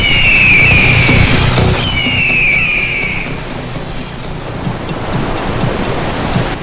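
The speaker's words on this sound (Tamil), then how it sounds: "வாரி சுருட்ட பார்க்கும் கடல் அலைகளுக்கு இடையே" Rough open-sea waves around a 300-ton Indian Navy sailing vessel, a loud continuous roaring wash with whistling wind tones rising briefly in the first few seconds, then a steadier churning surge.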